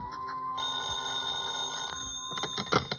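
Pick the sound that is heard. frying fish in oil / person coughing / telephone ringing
telephone ringing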